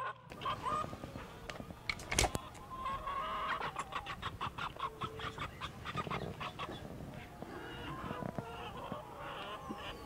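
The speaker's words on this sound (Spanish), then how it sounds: "lo único que tengo es mi gallo" Rooster clucking in a rural outdoor setting, repeated short calls amid steady background clutter and a few sharp knocks, moderately near and fairly loud throughout.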